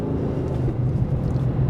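A Ford Mustang Dark Horse with its naturally aspirated Coyote V8 running, a steady, dense low engine rumble holding at a constant loudness with no clear rev rise or fall.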